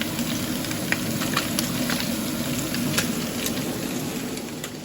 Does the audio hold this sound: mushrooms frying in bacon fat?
yes